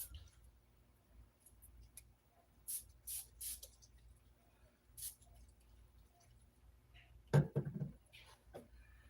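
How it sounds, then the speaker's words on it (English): Tanning spray misted onto skin in a few short, soft hissing bursts, quiet and close, with faint handling noise and a louder brief burst near the end. "So first I start with spraying it all on."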